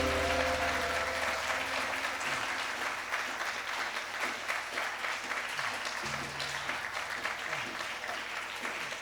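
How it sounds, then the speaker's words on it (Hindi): A dense, steady wave of loud applause from an audience at a musical event at the Embassy of India in Washington DC, following a performance of Vande Mataram, sustained throughout the clip. "जोरदार तालियां"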